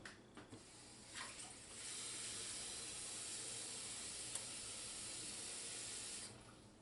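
Liquid poured into a simmering pot of Trini chicken stew, a steady broad hissing pour lasting several seconds after a few brief splashes, then cutting off, with no talking.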